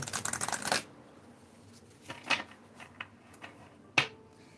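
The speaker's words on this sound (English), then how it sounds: "This deck shuffles good too, like the angel number deck." A deck of cards being shuffled in a burst of quick riffling clicks, then several sharp scattered snaps and taps as the cards are squared and handled, close and clear with no talk.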